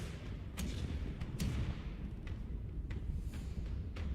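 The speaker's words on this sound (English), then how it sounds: "Fire the cannons!" Ship cannons fire during a naval battle in the video game Pillars of Eternity II: Deadfire. Several dull booms come one after another over a low rumbling background, and the whole passage is fairly quiet.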